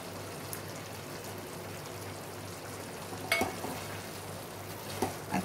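Beetroot halwa with dry fruits is stirred in a pan over a steady soft sizzle, with a few scraping spoon strokes and clinks toward the end and no talking.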